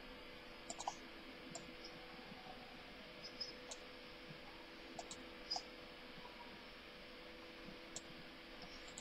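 Quiet, sparse mouse clicks while working in Silhouette Studio software, a few single and double clicks spread across a faint steady background hiss.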